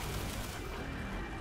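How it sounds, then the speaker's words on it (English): Heavy burst of gunfire in the video game Destiny, a loud dense blast of overlapping shots and booms that fades slightly toward the end. "don't shoot him anymore."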